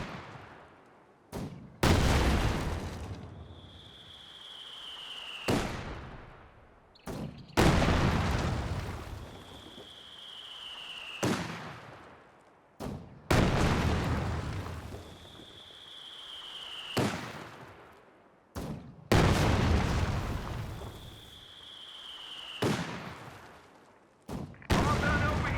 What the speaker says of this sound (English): We're barraging here close to max range.